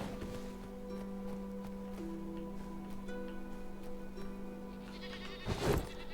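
A goat bleats once near the end, a short, loud cry in the video game Enshrouded, over a steady droning tonal background.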